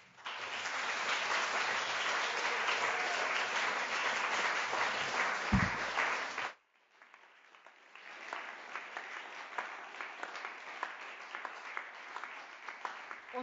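An audience at an award ceremony claps steadily for about six seconds, then stops abruptly. After a short pause a second, thinner round of clapping follows, softer and more scattered.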